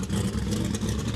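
Drag racing car engine revving hard and building boost at a no-prep street drag meet, a loud, dense, steady roar with heavy low rumble filling the whole moment.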